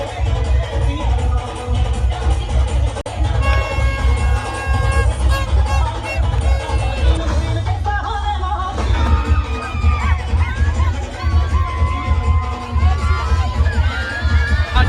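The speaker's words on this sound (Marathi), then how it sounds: "बघताय पूर्ण जल्लोष झाले ना फुल जल्लोष" A large, loud crowd cheers and shouts continuously at the Rayba Devi village fair procession in 2024, with voices and whoops layered over dense festive noise throughout.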